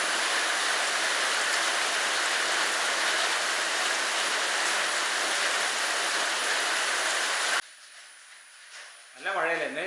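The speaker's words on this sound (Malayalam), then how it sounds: "നല്ല മഴയല്ലേ ഇന്ന് രാവിലെ തന്നെ." Heavy early-morning rain pours down in a dense, loud, steady hiss for most of the clip, then cuts off abruptly to a quiet room where a voice begins speaking.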